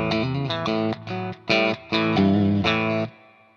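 An electric guitar played through a spring reverb effect turned all the way up, as part of testing a new effects pedal. Several loud strummed chords ring out, each trailing off in a washy, splashy reverb tail, with no talking.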